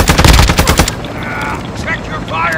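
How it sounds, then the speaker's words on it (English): Rapid automatic gunfire in the video game Call of Duty DMZ, a loud close burst of shots in the first second, followed by quieter distant game noise. "Taking effective fire."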